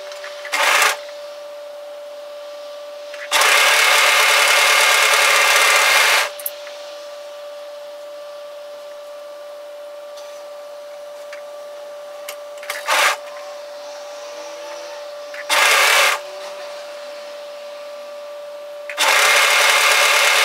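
An overlocker sews a 6 mm serged seam along the curve of a dress. Its whirring stitching comes in short and long bursts, loud and close, between quiet gaps, over a faint steady hum.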